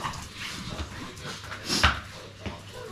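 Dogs at a home whimpering and giving short yips and a bark, close by, with scattered small bumps around them.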